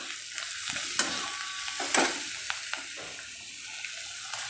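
Onion and green chilli fry in a pan with a steady sizzle, while a spoon stirs and scrapes in several sharp clicks, one stronger knock near the middle. No voices are heard.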